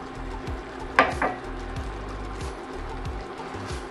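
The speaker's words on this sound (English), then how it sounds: "I'm gonna mix that in with the peaches." Spoon stirring brown sugar and cinnamon into peaches in a pan, soft repeated scraping strokes over a faint sizzle, with one sharper clink of utensil against the pan.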